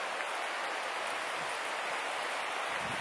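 Steady rain falls in a humid old-growth cedar rainforest in British Columbia, a dense even hiss of drops on leaves and ground, continuous and close, with no voices.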